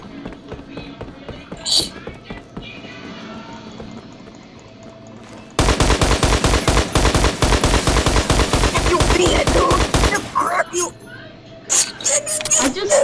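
Sparse, faint game sounds, then a loud burst of rapid automatic gunfire for about five seconds, followed by a few more scattered shots.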